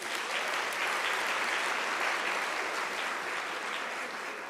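Sustained audience applause at a University of South Africa autumn graduation ceremony, a dense, even roar of many hands clapping with no break.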